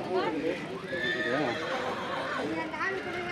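Horses neigh and whinny at a horse market held during a temple festival in India, several wavering whinnies close by over hoof clip-clop and crowd murmur, with people talking throughout.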